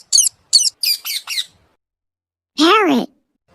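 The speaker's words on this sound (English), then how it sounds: "Parrot." Several short harsh parrot squawks in quick succession, then a pause and one longer, louder, nasal squawk; loud and close, with no talking.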